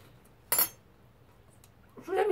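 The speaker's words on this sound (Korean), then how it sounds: "제가 상추로 수세미 삼아 설거지를 하겠습니다" Dishes are being washed using lettuce as a scrubber: two brief clinks of tableware, a sharp one early and a softer scrape near the end, separated by quiet.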